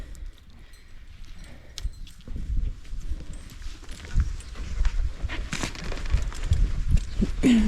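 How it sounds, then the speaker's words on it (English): Work horses, used for disc harrowing on a drying farm field, are led about and swapped out, their hooves thudding and clopping irregularly on the ground with scuffs and rustles close by. "What he's doing right now is swapping horses."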